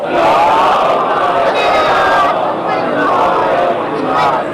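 A large congregation at a Quran lesson gathering reciting durood salutations together, a loud, sustained chorus of many voices chanting in unison with rising and falling waves.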